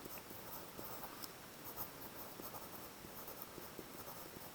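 A pen or pencil writes a math answer on paper in a quiet classroom setting, giving soft, continuous scratching with small taps, faint and close.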